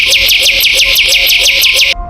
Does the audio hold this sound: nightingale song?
yes